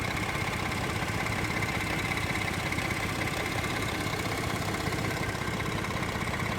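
A 2011 Ford F-150 XLT SuperCab 4WD with the 3.5-liter EcoBoost V6 idles with the hood open, a steady close-up engine hum with even low rumble and no talking.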